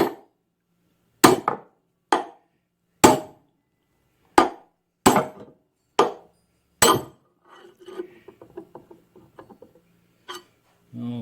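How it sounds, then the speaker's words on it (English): A hammer strikes the end of a puller eight times at a steady pace while removing a gib key, each blow a sharp, loud metallic crack. Low talk and faint clinks follow afterward. "I'm going to strike the other end of this puller"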